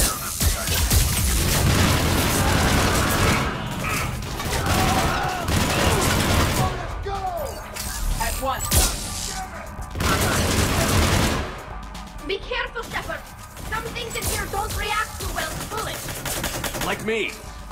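Rapid bursts of gunfire in the video game Mass Effect 3 Legendary Edition crackle and boom in a dense, loud battle mix, with voices talking over the action.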